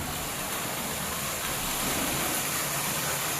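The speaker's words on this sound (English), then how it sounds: "The pool is running outside, and it's very noisy because of the drop of the water" Water dropping into a swimming pool outside a house in Cebu, heard through a closed door as a faint, constant hiss, like a distant waterfall, with no break.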